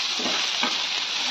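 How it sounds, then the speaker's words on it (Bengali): Sliced snake gourd (chichinga) frying plain in a pan, giving a steady close sizzle throughout with a couple of brief stirring scrapes over it and no talking. "আর প্লেন এরকমই ভাজবো"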